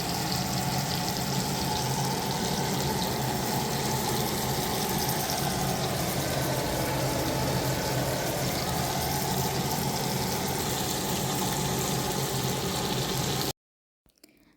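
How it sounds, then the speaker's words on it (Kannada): Bangda mackerel coated in masala fries on a low flame, giving a steady, dense sizzle that carries on for most of the clip before cutting off near the end. "ಸಣ್ಣ ಉರಿಯಲ್ಲಿ ಅದು ಫ್ರೈ ಆಗಲಿ."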